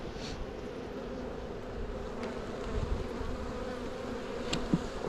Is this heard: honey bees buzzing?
yes